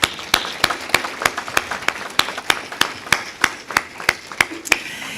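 Steady, evenly spaced hand claps ring out at a graduation ceremony for the Hopkinsville Community College spring 2025 graduating class, a crisp rhythmic beat about three claps per second that holds without talk throughout.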